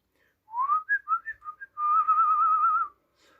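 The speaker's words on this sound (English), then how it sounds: "Can you whistle?" A person whistles alone in a quiet room, first a run of short rising and falling notes, then one long warbling tone held for about a second.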